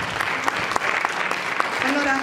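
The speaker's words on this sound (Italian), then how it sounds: "Le facciamo un applauso a Emanuela." Audience applause for the presenter at a municipal music school clarinet class concert, a short burst of scattered clapping in a room, mixed with talking voices throughout.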